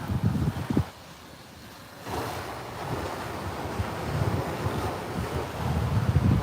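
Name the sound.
ocean waves on a Cancun beach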